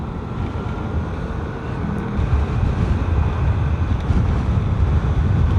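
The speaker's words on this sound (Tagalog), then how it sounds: "Lakas ng hangin dito." Strong wind roaring against the microphone, a heavy low rumble that grows a bit louder partway through, with no one speaking.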